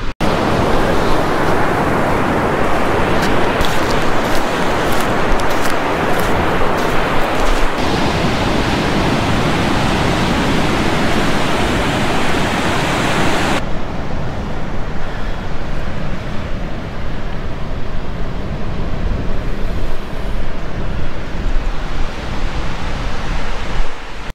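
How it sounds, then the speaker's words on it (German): Sea waves break on a beach on Rügen island in the Baltic, making a constant, loud, roaring wash of surf that runs without pause and with no voices. "Erster Tag, einfach nur mal so zum Gucken ans Meer."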